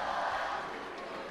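A home crowd roars steadily at a judo match in Israel, a loud, even wash of cheering voices with no pauses.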